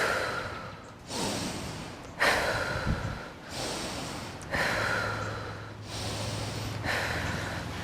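Slow, deep breathwork: about six long airy breaths, nasal inhales alternating with exhales, close and clearly audible with no talking.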